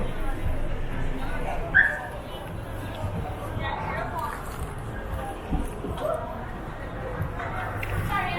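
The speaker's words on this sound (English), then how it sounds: "A bad dog." A dog on a busy street in Montego Bay, Jamaica, gives a few short barks amid traffic noise and people talking nearby.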